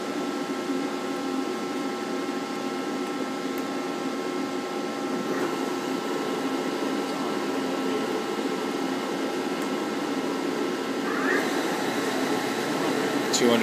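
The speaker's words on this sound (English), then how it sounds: "I'm going to run the spindle in low range first." A 2003 Daewoo Puma 400B CNC lathe runs its spindle in low range, producing a steady mechanical whine with a constant hum that holds level and rises slightly near the end.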